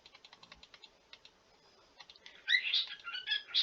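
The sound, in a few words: pet bird squeaking in the background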